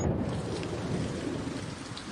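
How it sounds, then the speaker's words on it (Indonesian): Heavy rain pours steadily with a deep rumble of thunder underneath, a dense, continuous wash of sound throughout, without voices. "Bu, hujan."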